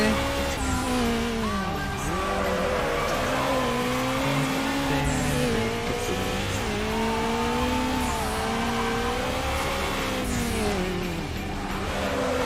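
Racing car engines roar continuously with rising and falling revs, tires squealing over the top, a dense game-style mix from Need for Speed: Underground with no pauses.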